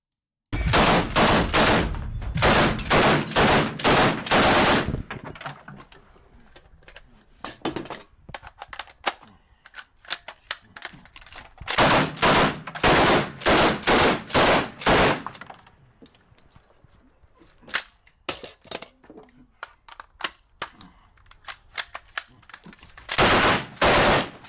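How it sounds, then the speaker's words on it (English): Thompson submachine gun firing at a shooting range rattles in loud rapid bursts, several sustained strings of shots separated by short pauses. "at the range training with the bar. Thompson submachine gun."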